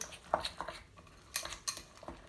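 A fork or whisk mixes thick pakora batter in a bowl, giving a few sharp, irregular clinks and taps of metal against the bowl, close and fairly quiet.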